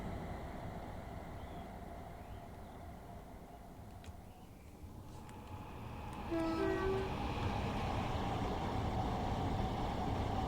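An LNER Class 801 train runs on the East Coast Main Line in the Train Sim World 5 game, a continuous rumble and hiss of wheels and motors. It grows louder partway through, with brief tonal whines as it passes close.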